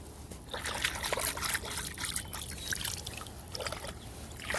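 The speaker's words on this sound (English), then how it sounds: "I'm gonna wash my hands down here." Hands being washed in warm water at the edge of a backyard bass pond, with steady close splashing and trickling throughout and no talk.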